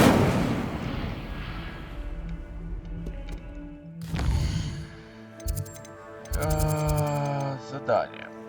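An Incendio fire spell cast in the Hogwarts Legacy video game, a sudden loud whooshing blast at the start and another burst midway, with crackling effects, game chimes and a spoken voice in between.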